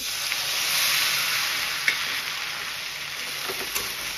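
Arrowroot slurry hits a hot pan of sizzling chilli paneer, giving a steady close frying hiss with a few brief crackles and pops.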